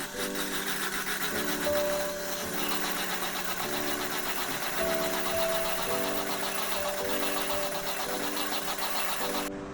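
An electric beater whips cream at high speed, giving a steady mechanical whir with a pulsing hum that stays loud and continuous throughout.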